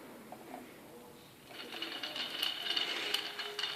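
A small screwdriver turns the single screw holding the bottom plate of an ASUS G75VW laptop, a faint ratcheting scratch over a quiet room hum.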